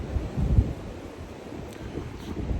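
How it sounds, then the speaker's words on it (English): Low, rumbling wind on a cold Appalachian Trail mountainside buffets the microphone in uneven gusts, a dull roar that rises and falls without any talking. "It's windy and cold."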